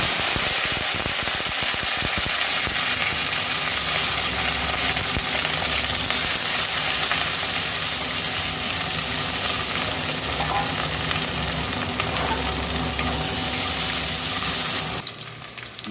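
Vegetables for a Bengali dal sabzi fry in a pan, a steady close sizzle with occasional stirring scrapes that runs unbroken for most of the stretch before cutting off near the end, with no voices.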